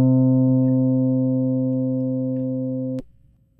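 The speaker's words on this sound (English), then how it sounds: "an open string on a guitar generally sounds something like this" A plucked open string on a custom cigar box dan bau rings with strong sustained harmonics, decaying slowly for about three seconds before it is abruptly cut off.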